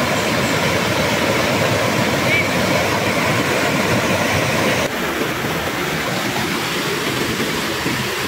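Strong, steady rush of a clear river flowing past a hidden riverside camp in Indang, Cavite in the early morning, a loud continuous broadband roar close by with no talk over it.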